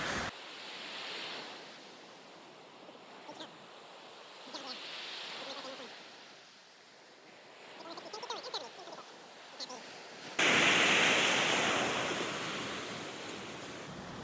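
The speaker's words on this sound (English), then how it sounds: "Those waves are fast too." Ocean surf breaks steadily along a sandy beach, a broad continuous wash of waves rising and falling, with a louder, closer rush of water toward the end and wind across the microphone.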